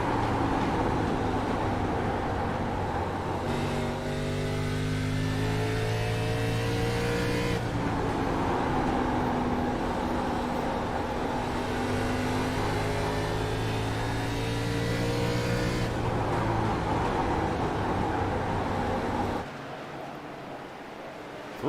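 ARCA Series race cars running three wide into turn one, a constant loud engine drone with rising and falling pitch sweeps as cars pass and shift, fading near the end.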